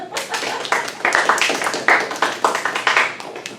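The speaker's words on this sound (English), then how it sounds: "Yes, you all can clap." Classroom students clapping together, a lively, fairly close burst of uneven hand claps that keeps going at a steady level throughout.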